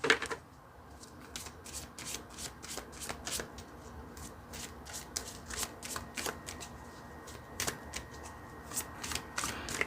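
A deck of Heal Yourself reading cards being shuffled by hand, a rapid run of crisp riffling flicks close up, coming in quick bursts with short pauses, with no talking.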